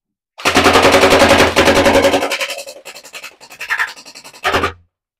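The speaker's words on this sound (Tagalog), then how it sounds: "So, test fire natin, single shot. Full auto." MK4 gel blaster fitted with a long magazine fires a sustained full-auto burst lasting about two seconds, then a few short sputtering bursts and one final brief burst, loud and close with no talking.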